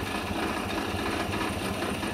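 A Chevy Silverado pickup engine misfiring at idle, with a cylinder 6 deactivation solenoid valve fault, gives a rough, uneven chugging and a steady mechanical hum, close and fairly loud, with no talking.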